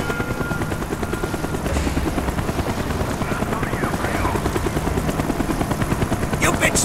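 A helicopter's rotor in the video game Black Ops thumps rapidly and steadily, loud and close, with a faint voice and a brief burst of noise near the end.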